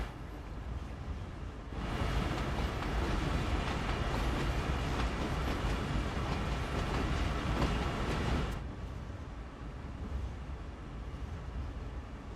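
A train running in Train Sim World 5 in Japan, a steady close rumble and rolling rail noise that swells loudly for several seconds and then drops back to a lower hum.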